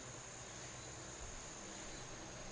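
Cicadas buzz as a steady, dense, high-pitched drone filling the whole stretch, heard at a moderate distance with no voices over it.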